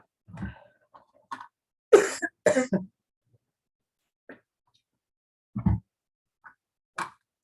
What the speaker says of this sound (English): I'm coughing for some reason